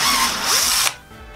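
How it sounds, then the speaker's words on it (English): A power drill with a 13/64 bit boring a hole through plastic, a loud close whine lasting under a second before it abruptly stops, leaving only a quiet hum. "So I'm going to go ahead and drill that out."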